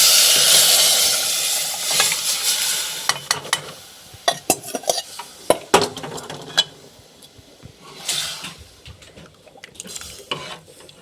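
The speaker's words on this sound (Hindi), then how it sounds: "दाल में जो है कि तड़का लग रहा है" Hot oil sizzles loudly at first as dal is tempered, then a spoon clinks and scrapes against a pan in irregular taps while frying continues softly.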